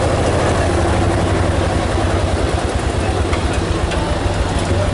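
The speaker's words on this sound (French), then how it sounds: "donc un petit tracteur adapté aux petites exploitations, il date de 1956" Small 1956 six-horsepower tractor built for small farms, idling at a fair exhibition parade with a steady low chugging throb, loud and close, with crowd noise in the background.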